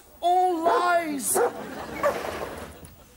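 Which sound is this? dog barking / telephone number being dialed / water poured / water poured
dog barking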